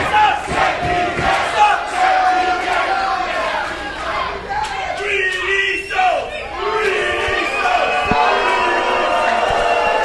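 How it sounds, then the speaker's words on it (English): A large crowd at a live New Wave Wrestling event chants and cheers in loud, rising waves, with rhythmic shouting that fills the arena and no clear talking on top. "Listen to this crowd."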